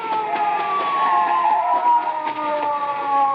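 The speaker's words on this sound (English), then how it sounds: "The police car." A police car siren wails steadily and loudly with a slowly falling pitch, heard alone as a sound effect in a radio mystery drama.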